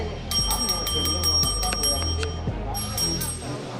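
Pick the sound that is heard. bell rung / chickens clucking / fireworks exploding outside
bell rung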